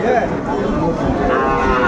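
Cattle low loudly and close by at a livestock market in Dhaka, a drawn-out moo over the murmur of a busy crowd.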